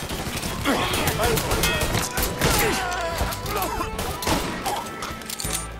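Gunfire in Mafia 3, made of repeated sharp shots and thumps mixed with shouting game voices and action noise, loud and close throughout.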